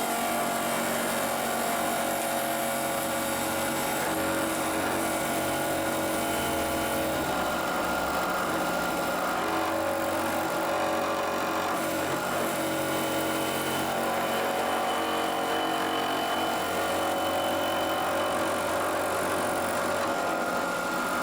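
A milling machine spinning at high RPM makes a facing cleanup pass on a steel angle pressure plate for a Kurt vise, a continuous steady whine and grind lasting the whole stretch at moderate level.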